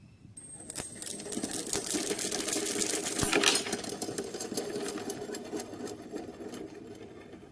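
A homopolar motor built from stacked neodymium magnets with a brush applied at full power, spinning with a steady whirring buzz and rapid rattling contact clicks that swell to a loud peak, then ease slightly while running on.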